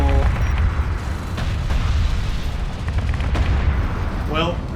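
Ship gunfire from a space battle in Homeworld: Deserts of Kharak, a steady dense rumble of shots with creaking mechanical noise, loud and continuous, with voices talking over it.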